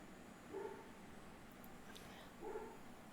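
A dog barks twice, about two seconds apart, fairly faint and in the background of a quiet indoor setting, with no talk.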